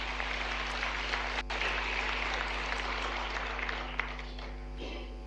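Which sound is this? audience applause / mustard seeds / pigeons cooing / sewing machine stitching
audience applause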